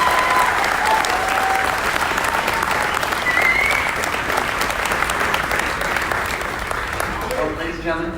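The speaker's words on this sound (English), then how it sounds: "Another huge round of applause for the class of" A large graduation audience claps loudly and continuously for the graduating class, a sustained wash of applause that slowly thins out near the end.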